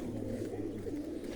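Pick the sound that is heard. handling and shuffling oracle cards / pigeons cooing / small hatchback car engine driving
pigeons cooing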